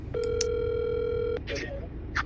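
Outgoing phone call placed hands-free through Siri, with a steady ringback tone sounding loud and close for over a second, cut by short clicks and a brief voice at the end.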